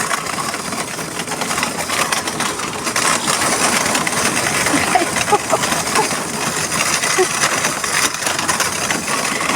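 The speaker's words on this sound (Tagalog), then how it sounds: "Ang ingay ng kariton guys." A heavily loaded pushcart rattles and clatters continuously as it rolls along, a close, noisy jangle of loose metal over rough ground.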